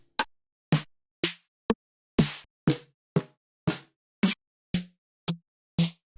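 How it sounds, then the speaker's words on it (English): Snare drum samples in FL Studio, a dozen short, sharp dry hits fired one after another at a steady, slightly uneven pace, each a crisp crack with a quick decay and silence between, with no talking. "a snare is another drum sound, which sounds like this."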